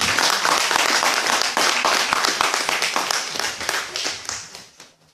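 A church congregation claps and applauds in a dense, sustained burst of many hands that fills the room, then thins and fades toward the end.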